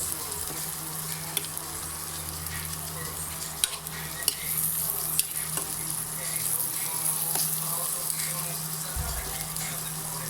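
Corned beef sizzles steadily in a pan, a continuous crackling hiss with a low hum underneath, broken now and then by faint clicks and scrapes.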